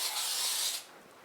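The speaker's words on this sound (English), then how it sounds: "I spray it with my stuff." Cooking spray hisses from a can into a loaf pan for pumpkin bread, one steady close burst lasting under a second before cutting off, with no talk over it.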